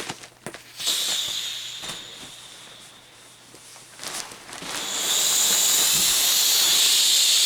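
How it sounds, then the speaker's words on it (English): Air let out through the nozzle of a backpacking sleeping pad lying in a hammock: a close, airy hiss that comes in short bursts and then becomes a loud, steady rush near the end. "I'm going to take this nozzle and I'm going to let some air out"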